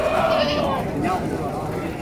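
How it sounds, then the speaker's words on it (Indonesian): Goats at a crowded goat market in Karang Pucung bleat loudly and close by, with a long wavering cry at first and more calls, while someone talks over the livestock noise. "populasi ribuan ekor kambing di Pasar Kambing Karang Pucung"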